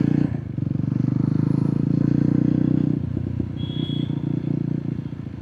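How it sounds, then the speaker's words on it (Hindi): A 2026 Yezdi Roadster Shadow Black motorcycle rumbles with a steady, deep, pulsing exhaust thump while riding. The engine is close and loud and eases slightly partway through, with no speech. "इसका एग्जॉस्ट नोट बहुत प्यारा है भाई"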